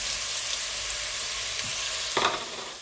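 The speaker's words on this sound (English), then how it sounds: "Next step is to add in 110 grams of bacon chopped into small pieces. And we saute this until it's slightly brown." Small chopped bacon pieces sauteing in a pan for beef bourguignon, giving a steady close hiss of frying fat with a brief louder crackle burst near the end.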